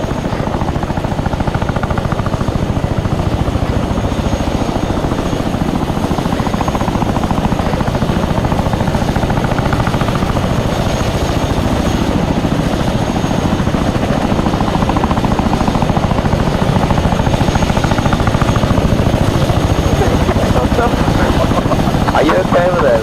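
A helicopter in a military video game set during a 6th Airborne Division operation whirs and roars steadily throughout, its rotor thrum constant and fairly loud beneath the surrounding game audio.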